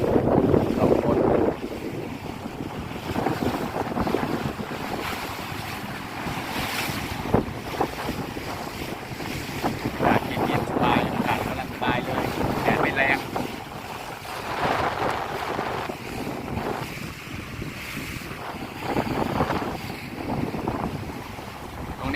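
Boat crossing open sea to Koh Ngam island off Koh Chang, Thailand, with a continuous engine drone, rushing wind buffeting the microphone and waves slapping the hull, loud and unbroken for the whole ride.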